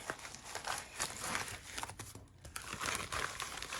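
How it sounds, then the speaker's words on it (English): A mail package being torn open by hand gives a close run of crinkling plastic, ripping and pulling noises, uneven and continuous, with no voices. "I'm just gonna yank and tear and pull"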